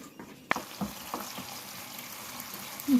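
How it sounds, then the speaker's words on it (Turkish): Grated tomato and tomato paste sautéing in oil in a pan, a soft continuous sizzle with a few clinks and stirring scrapes, close and unaccompanied by talk. "Bunu yağda kavuracağım."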